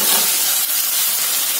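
Ridge gourd pieces dropped into hot spiced oil, a loud steady sizzle and hiss close up with no break.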